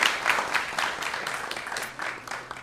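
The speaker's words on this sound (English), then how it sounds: "Let's give them a big round of applause" Applause from a temple audience, a short burst of many hands clapping in a reverberant hall, dense and fairly loud, tapering slightly over a few seconds.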